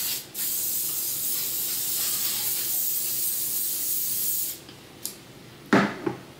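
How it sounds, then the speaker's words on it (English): A hair product hisses from a spray can in one long, steady burst lasting several seconds, close and fairly loud, followed by a few short handling clicks and rustles. "I want to spray some of this in there."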